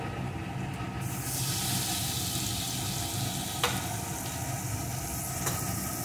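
Soft pulp of pointed gourd fries in a pan while being stirred, giving a steady low sizzling hiss with a couple of faint scraping ticks, fairly quiet and close.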